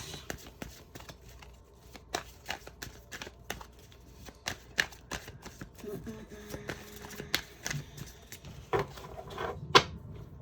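Tarot cards being shuffled with a rapid series of sharp clicks and papery snaps, irregular and close, with light handling noises in between.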